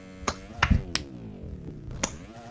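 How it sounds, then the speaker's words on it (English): A hand clap made to sync the audio between people playing a group game, heard as several sharp, bright claps spread across the clip, with a sustained tonal sound running underneath. "We're gonna do the clap sync real quick"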